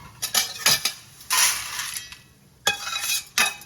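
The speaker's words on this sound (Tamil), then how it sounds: "ஸோ இதை தனியாக நாங்கள் தட்டில் போட்டு கொட்டிட்டு போகிறோம்" Roasted, browned vegetable masala spice powder being tipped from a pan onto a plate: a few short metallic scrapes and clinks of a spoon against the vessel, with brief granular rustling pours between them, close up.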